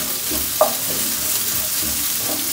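Fideo rice stirred in a frying pan, with a continuous sizzle and soft scraping strokes of the spoon, one sharper clink partway through, close and fairly loud.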